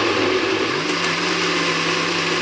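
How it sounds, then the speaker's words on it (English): A countertop blender whirs steadily at full speed, mixing a creatine smoothie, a loud continuous motor drone with a high whine that holds throughout. "let's get the lid, and let's put it on the blender"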